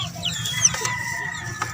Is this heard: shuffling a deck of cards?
no